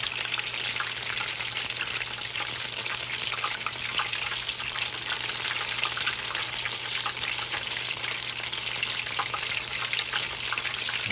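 Battered onion rings, tempura style, frying in hot oil, a loud, steady crackling sizzle that holds evenly close-up throughout with no talking.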